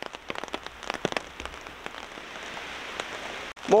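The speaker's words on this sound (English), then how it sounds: "listening to the rain on the tarp" Rain patters steadily on a tarp over a wild-camping bed at night in Snowdonia, with scattered louder drops at first, settling into a continuous close hiss.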